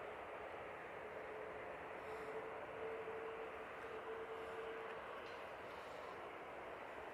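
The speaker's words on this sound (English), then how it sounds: "Austrian Airlines A320neo coming in from Vienna," An Austrian Airlines A320neo arriving from Vienna and about to touch down at Manchester Airport, a steady, broad jet roar at a distance with a faint thin whine running through the middle.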